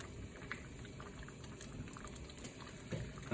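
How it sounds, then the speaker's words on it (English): Pasta dropped into a pot of boiling water on a stovetop, heard as a steady bubbling, sloshing roil up close with small splashes near the start and end, and no talking. "in our pot of water is we're going to drop our pasta in"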